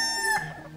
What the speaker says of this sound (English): He crowed.